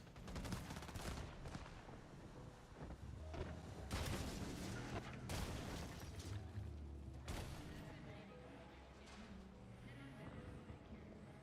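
Turrets fire in Cyberpunk 2077 Phantom Liberty during a freeway drive, with dense rapid gunfire and booms layered over engine roar and game music while a player talks.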